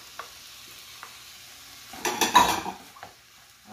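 Carrot is dropped into a pan of vegetables and chicken, with a brief burst of sizzling and stirring near the middle over quiet kitchen background and a few light clinks.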